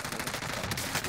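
Rapid automatic gunfire from Call of Duty Warzone on Rebirth Island rattles in a dense, loud burst of overlapping shots with no pauses.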